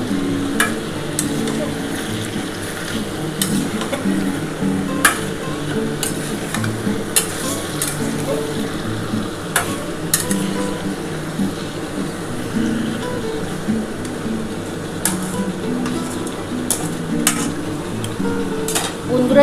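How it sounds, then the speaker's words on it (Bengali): Chicken sautéed in a pan for a curry gets stirred continuously, with a steady sizzle under regular sharp scrapes and clanks of a spoon against the metal, close by, with faint background noise. "দেখো খুব ভালোভাবে কষাচ্ছি"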